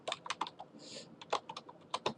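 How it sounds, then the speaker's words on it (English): Code is typed on a computer keyboard in a quick, irregular run of close key clicks, including one longer press, with no voices. "So type in temp sec here"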